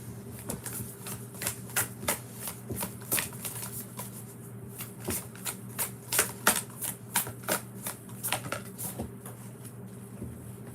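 Divine Energy Oracle cards are shuffled by hand, a close, quiet stream of rapid riffling flicks and soft slaps repeating in irregular bursts, with a faint steady hum underneath.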